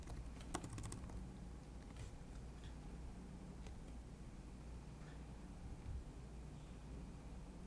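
Python code being typed on a computer keyboard, with sparse, faint key clicks over a steady low background hum and no talking.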